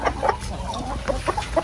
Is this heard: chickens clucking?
yes